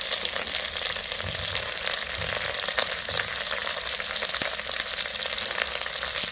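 Cashews and mixed vegetables frying in hot oil for millet bisi bele bath, a steady close crackling sizzle with brief stirring clicks throughout, no voices.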